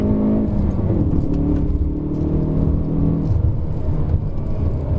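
A Hyundai i30 N hot hatch in second gear accelerates hard out of a bend on a mountain hillclimb road, its engine note rising in a loud, steady drone heard from inside the cabin.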